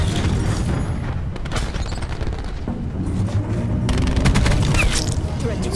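GKS gun firing in a shooter video game, sustained loud bursts of automatic gunfire with short pauses, near and dominant.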